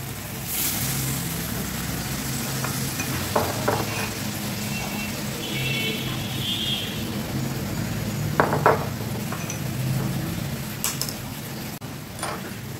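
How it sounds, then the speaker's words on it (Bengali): Yogurt water is poured into a sizzling Bengali doi maach fish curry and stirred, giving a steady, fairly close sizzle with a few soft clinks and scrapes from the pan. "এতে এবার দই গোলা জলটা দিয়ে দিচ্ছি।"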